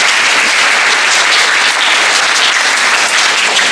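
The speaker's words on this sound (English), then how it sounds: "So a round of applause to yourself" An audience at a school winter concert applauds, dense, steady clapping that fills the whole stretch at an even, loud level with no pauses.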